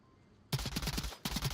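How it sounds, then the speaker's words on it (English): Two rapid bursts of gunfire from a VR tactical shooter match of Onward, the first lasting about three-quarters of a second and the second starting after a short gap, both loud and close with fast repeating cracks. "Multiple gunshots."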